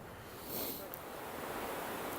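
Water running into the North Tower reflecting pool at the World Trade Center memorial in New York, a broad steady rushing roar that swells slightly partway through.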